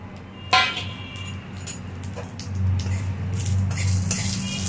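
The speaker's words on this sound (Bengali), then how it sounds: "আবার একটু সর্ষের তেল, আর এখানে ফোড়ন দিচ্ছি আমি রাঁধুনি, কালো সর্ষে আর তেজপাতা।" Radhuni, black mustard seeds and bay leaf hit hot mustard oil in a wok with a sharp burst of sizzle, then a steady crackling fry with light utensil clinks and a low background hum.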